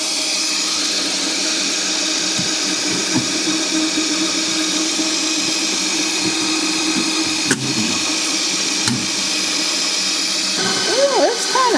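An Ooni Halo Pro spiral stand mixer whisks cream at full speed, a steady whirring motor drone with splashing, churning texture throughout, close and continuous, while a person talks over it.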